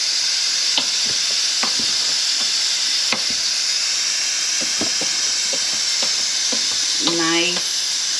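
Cooked rice is scraped and stirred in a pot with a fork, giving soft irregular ticks and scrapes over a steady steamy hiss, with a brief whining tone near the end.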